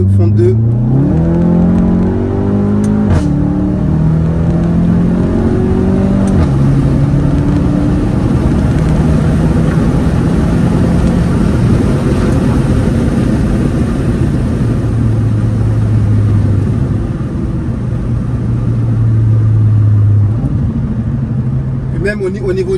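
A Volkswagen car pulls hard at full throttle in second gear, its engine note climbing in loud rising sweeps, then settling into a sustained roar, with a voice talking over it at times.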